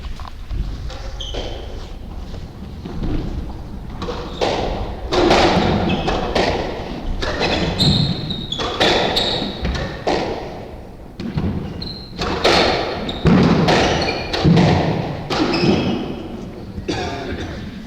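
A squash ball thuds repeatedly off walls and rackets during a men's 30+ doubles rally in a 1998 world championship match, with irregular sharp hits, footsteps and crowd or commentary voices throughout.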